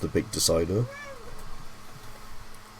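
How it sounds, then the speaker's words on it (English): A hyperactive pet cat lets out a few loud meows near the microphone. Indoors, a person talks over and between the meows, and the meows trail off into quieter room noise. "Apologies for my cat, she's very hyperactive this morning."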